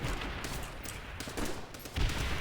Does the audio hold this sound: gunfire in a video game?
yes